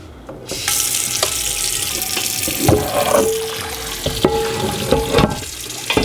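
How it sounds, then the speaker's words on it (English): Tap water runs steadily and loudly into a large Lodge No. 12 cast iron pan being rinsed in a sink, with splashing and a few clanks of the pan as it is moved. "it is hard to rinse a large pan like this Lodge number 12 I got right here"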